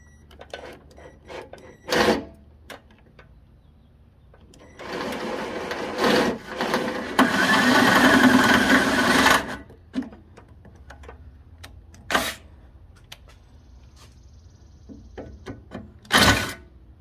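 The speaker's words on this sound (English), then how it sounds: "after you get your pilot holes drilled, we'll use the drill bit that came with the table" A power drill with an 8.5mm bit whirs and grinds through thick metal on a Jeep Wrangler tailgate for a few seconds, surrounded by scattered knocks and clicks from handling parts.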